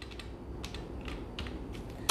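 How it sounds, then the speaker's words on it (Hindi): A computer keyboard used for data entry in Tally Prime accounting software, close irregular key clicks ending in a sharper press of Enter. "एंटर प्रेस कर देते हैं"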